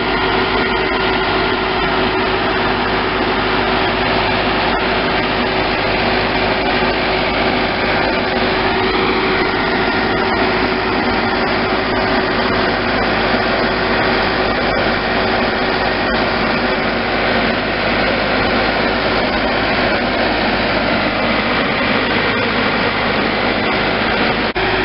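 A 98 hp four-cylinder New Holland 6810 tractor working a pumpkin field gives off a loud, continuous engine drone that holds steady from start to finish, with no talking.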